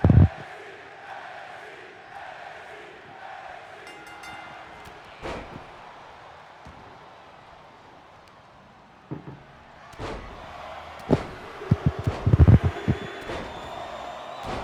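A crowd at a live MFW wrestling event roars and cheers as Jake the Snake Roberts signals for his DDT, a broad swell of fans under sharp thuds and slams, building into louder bursts of cheering toward the end.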